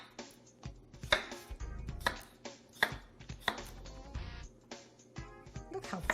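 A knife roughly chops an English cucumber on a cutting board, giving a run of close, uneven thumps and taps at an irregular rhythm, with no voices.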